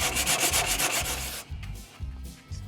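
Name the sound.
sandpaper rubbing on an old car's surface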